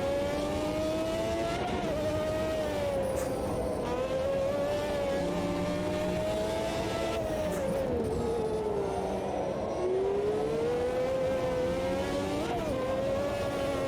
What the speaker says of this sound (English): Here it is, spinning tires.